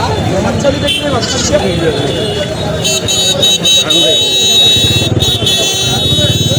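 Goats bleat repeatedly at Bhabaniganj livestock market in Nilphamari, crowded before Eid, their calls rising through dense crowd chatter, with passing vehicles and horns in the background.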